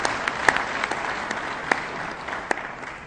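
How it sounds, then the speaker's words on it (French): An audience at a closing ministerial speech on grassroots development applauds the organizers, with a steady roomful of clapping punctuated by a few louder, closer claps. "Vous les applaudissez parce qu'ils nous ont vraiment aidés."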